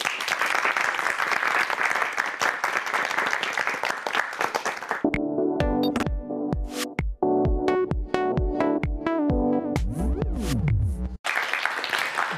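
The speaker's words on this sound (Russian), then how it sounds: "Ваши аплодисменты" Audience applause at a televised Gomel district evening concert, loud dense clapping for a few seconds, then broken off by a bright musical interlude of struck tonal notes before the clapping swells back at the end.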